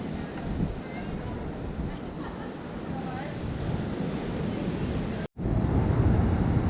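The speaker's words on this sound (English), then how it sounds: "Waves just keep on coming." Ocean waves break on a beach at St. Barthélemy near a beach club, a continuous loud surf roar mixed with wind, briefly cut out before resuming.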